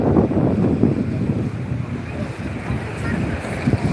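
Surf washing onto the gently sloping, dark-sand shore of Ulee Lheue beach in Banda Aceh, near the port, a steady broadband rush mixed with wind buffeting the microphone, with a faint voice now and then underneath.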